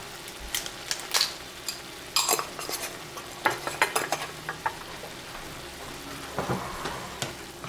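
Onion powder is stirred into a pan of corn noodle pasta, giving scattered scraping and clinking strokes of a utensil against the pan, some sharp and close, over a faint sizzle.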